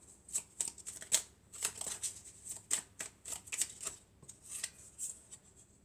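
Tarot cards being shuffled by hand, a quiet crisp riffling and flicking in repeated short bursts, close and alone without any speech.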